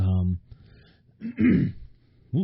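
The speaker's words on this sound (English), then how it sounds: "I coughed, but at least I didn't cough into the mic." A voice breaks off, then a single harsh cough or throat-clearing sounds up close, followed by another brief vocal sound.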